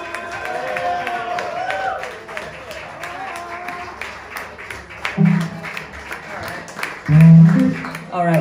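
Applause and clapping from a crowd at a live music gig at The Garibaldi, starting after the band introductions and continuing for several seconds at a moderate level, with a voice talking over it and a few louder bursts near the end.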